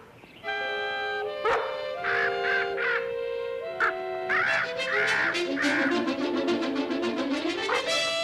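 A rooster crows repeatedly on a farm, its harmonic calls loud and close, while a dog barks and yips in quick bursts over a sustained tonal background.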